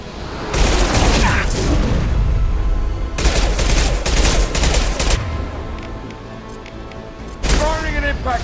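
Impact shot gunfire in Mass Effect 2, with loud close bursts of rapid shots, then a second heavy volley and a later burst, over an ongoing combat din with voices speaking in between.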